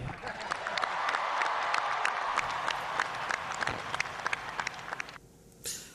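A large crowd of faithful applauds Pope Francis at his balcony appearance, with dense, sustained clapping and sharp individual claps. Some cheering rises within it before the clapping breaks off near the end.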